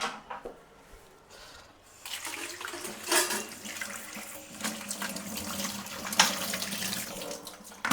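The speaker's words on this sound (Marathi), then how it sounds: "कांदे धुतो दे." Tap water runs over onions being washed in a home kitchen sink, a steady splashing stream that grows louder after a quieter start, with rubbing and handling sounds mixed in.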